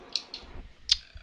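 A computer mouse gives a few quick, close clicks in a quiet room, two pairs of short sharp taps with no talking.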